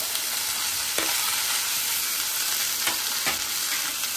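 Cauliflower and potato fry in a pan, a continuous close sizzle broken by several sharp scraping strokes of a spatula as they are stirred.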